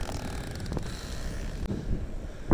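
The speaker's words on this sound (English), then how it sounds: "it's super windy" Strong wind near the top of a hill buffets the microphone in rough, rumbling gusts, with a louder burst near the end.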